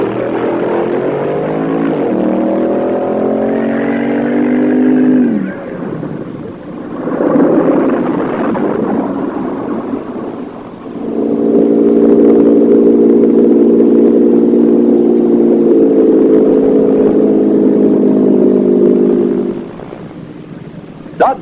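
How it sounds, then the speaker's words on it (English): A 426-cubic-inch Dodge-powered Wildwing drag racing pickup truck from 1964 roars loudly, rising in pitch through gears, dropping away, then holding a long sustained high-revving run before cutting off. "426-inch Dodge powered truck, the Wildwing"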